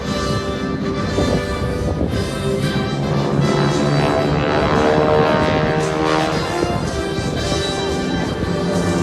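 Aeroshell aerobatic team propeller planes fly over an airshow at Abbotsford, BC, their engines making a loud, steady droning roar that carries through the whole clip.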